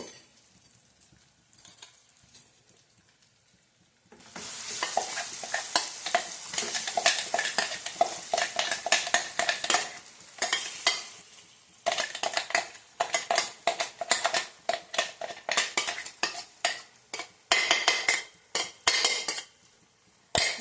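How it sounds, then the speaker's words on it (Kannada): Quiet opening, then continuous sizzling as ground amla and coconut chutney fries in a hot pan with curry leaves, repeated scraping and clinking as a spoon stirs, loud and close, with brief pauses. "ಇದರಲ್ಲಿ ಫ್ರೈ ಮಾಡಬೇಕು ತಳ ಬಿಡುತ್ತೆ ಇದು ಬಾಣಲೆ ಬಿಡೋವರೆಗೂ"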